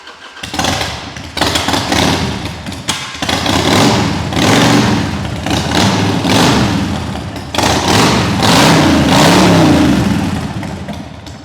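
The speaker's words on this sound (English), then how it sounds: "start up so you can hear what this exhaust sounds like" A scrambler motorcycle engine starts and then runs loud and close, its throaty exhaust rumbling and revving steadily with no talking.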